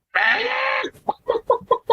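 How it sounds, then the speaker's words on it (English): A chicken gives one long drawn-out squawk, then a quick run of five or six short, evenly spaced clucks, loud and close with no other sound. "Chicken."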